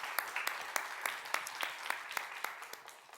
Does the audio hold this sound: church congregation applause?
yes